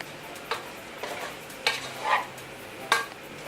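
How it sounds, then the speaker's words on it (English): Food in a pan with a little olive oil is stirred, giving several distinct scraping strokes over a soft, low sizzle, close and fairly quiet, without talking. "It's sizzling right now."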